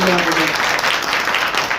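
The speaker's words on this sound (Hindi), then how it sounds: "जोरदार तालियां मेरे बच्चों को" Loud applause from an audience at a speech against tobacco, a brief burst of dense clapping with a voice heard over it.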